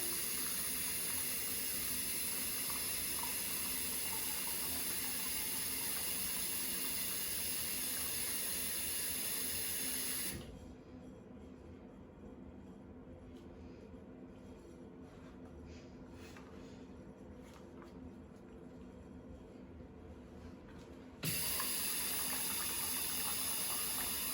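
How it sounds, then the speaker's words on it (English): Steady rushing of warm water pouring into an enema bag, continuous and fairly loud, with a quieter stretch in the middle before the flow picks up again. "now I'm going to begin filling the bag"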